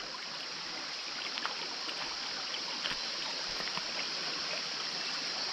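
Mobo Creek in the Tablelands runs with a steady, hissing flow of water, a constant bright wash of trickling and rushing with faint small splashes, fairly close and without voices.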